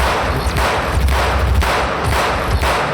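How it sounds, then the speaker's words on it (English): Gunfire sound effect in an audio drama combat scene, a dense, loud roar of rapid overlapping shots and rumbling blasts sustained throughout without speech. "Over the scream of gunfire, Noah yelled, "We'll take care of this!""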